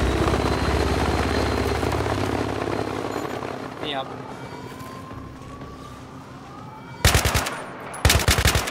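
A helicopter's rotor drone in the video game Battlefield 3 thrums steadily beneath bursts of rapid machine-gun fire and a rising whine, with voices talking over the game action.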